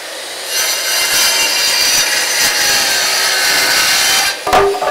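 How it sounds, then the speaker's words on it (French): A cabinetmaker's band saw cuts through raw wood in one continuous, loud, close rasping pass lasting several seconds, then the blade runs out of the cut with a brief knock at the end. "il va falloir aller la découper à la scie à ruban"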